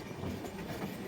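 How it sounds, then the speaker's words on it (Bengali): Agartala to Kolkata Garib Rath Express rolling along the rails, a steady low rumble of wheels and carriages with faint rhythmic clatter, continuous and moderately quiet with no talking. "এই যে দেখুন আমাদের ট্রেন এদিকে যাচ্ছে"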